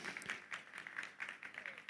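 Applause from a summit audience, a soft, steady patter of many hands clapping at a distance, faint and continuous with no voices.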